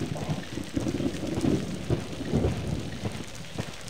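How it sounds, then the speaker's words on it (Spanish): Steady rain in the video game Alone in the Dark: The New Nightmare pours throughout with low rumbling thunder-like swells, a continuous wet hiss with no voices. "Y ya se va caminando en la lluvia."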